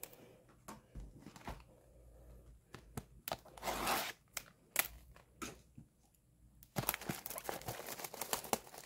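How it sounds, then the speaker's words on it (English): Rusty scissors snip open a foil pack from a 2021 Topps hobby box of trading cards, with sharp crinkling, clicks and rustling in bursts, close and fairly quiet. "Of course, got the rusty scissors."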